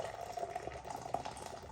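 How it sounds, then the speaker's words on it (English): Radegast Ryze Hořká 12 Czech lager poured aggressively from a can, a steady close splashing and fizzing rush of liquid that runs continuously without any talk. "Now I've gone for that aggressive Czech pour."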